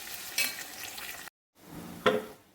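Curry leaves and green chillies hit hot oil for a mango pickle, giving two sharp bursts of sizzling and frying. Stirring continues around the bursts, a short silent gap separates them, and no one speaks.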